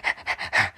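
A dog pants close up in four quick breathy bursts, rapid and rhythmic, with no other sound around it.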